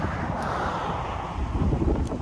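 Strong headwind buffets the microphone during a gravel bike climb near Calgary, a loud, continuous low roar with gusty swells throughout.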